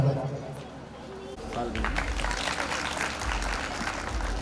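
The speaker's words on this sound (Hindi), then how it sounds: "ये बड़ा अच्छा प्रशिक्षण दे रखा है कि बच्चों को कब तालियां बजाएं।" Students applaud at an education seminar, a broad wash of clapping that rises after a brief lull and carries on steadily, mixed with crowd murmur and voices.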